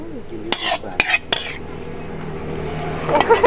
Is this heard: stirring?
yes